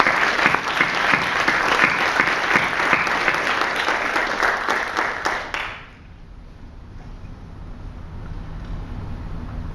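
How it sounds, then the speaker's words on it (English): Dense applause from a crowd for faculty members at a speaking event at Boeing claps steadily for about six seconds, then cuts off abruptly, leaving quieter room noise behind. "Can we have one more round of applause for the faculty members who've committed to this program?"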